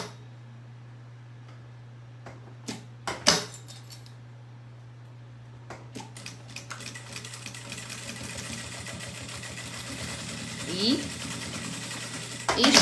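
A sewing machine stitches a seam on a fabric box, starting with a few clicks and thumps, then running in a fast, steady, close mechanical rhythm for several seconds while a person speaks.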